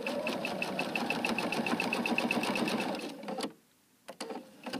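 Close, steady whirring of a sewing machine stitching binding down around a quilt corner, running continuously for about three seconds before stopping, then a few short taps and bursts of stitching after a brief quiet gap.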